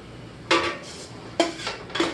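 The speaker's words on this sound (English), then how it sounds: "Now that sausage is browned, I want to go ahead and pull it out" A slotted spoon scrapes and clinks against a pot while lifting browned sausage out, in three distinct close metallic bursts with quiet gaps between.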